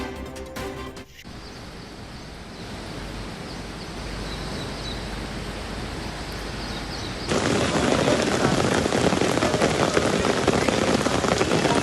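Heavy monsoon rain in Mumbai pours steadily as a dense, continuous hiss, growing noticeably louder partway through, with no voices present.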